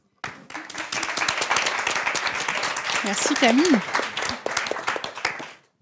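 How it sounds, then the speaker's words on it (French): Small audience clapping steadily for several seconds at a French creative-industries event, moderately close and fairly sparse, with a voice briefly speaking over it. "On va vous applaudir le peu qu'on est"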